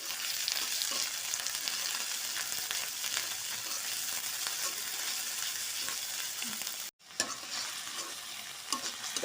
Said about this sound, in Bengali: তো এই মশলাগুলোকে সুন্দর করে ভেজে মানে কষায় নিচ্ছি।